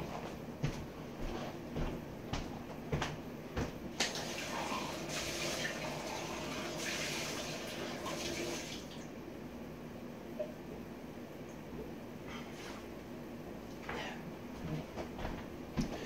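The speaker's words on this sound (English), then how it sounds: "let's wash out this cup, wash out my mouth" A cup being rinsed out with running water at a tap: a steady wash of water with scattered splashes and drips, close and fairly quiet, with no talk.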